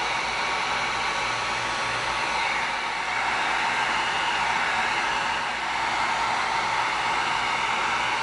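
A heat gun heat-seals EVA foam, producing a constant loud blowing hiss of hot air that rises slightly in intensity partway through and continues steadily with no speech.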